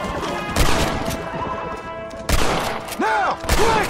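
Gunfire in the Red Dead Redemption video game: several sharp, loud broadband shots land at separate moments amid a busy battle mix, with ricochet-like whistles and background noise.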